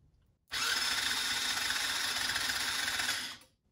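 A Chinese ATV engine, its head rebuilt, is spun over by the starter without a compression test fitted, giving a steady, loud whirring that starts abruptly, runs about three seconds and then stops.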